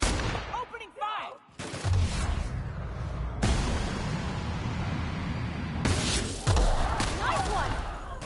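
Gunfire in The Outer Worlds video game, with loud rapid shots and bursts in close combat, sometimes overlapping, and voices speaking during the fight.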